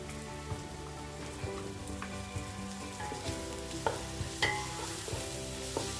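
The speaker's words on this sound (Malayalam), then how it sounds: "അതൊന്ന് നന്നായിട്ട് വഴറ്റിയെടുക്കാം" Crushed shallots and green chillies sauté for chicken kuruma, giving a continuous crackling sizzle like light rain, with occasional stirring clinks and scrapes, close up and without talk.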